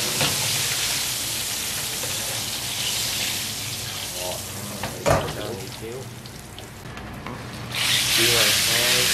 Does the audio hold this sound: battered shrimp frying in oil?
yes